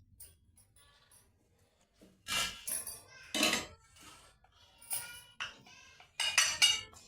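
A spoon mixes turmeric and chili powder in a metal bowl, scraping and clinking in short irregular bursts after a quiet start, close by and moderately loud.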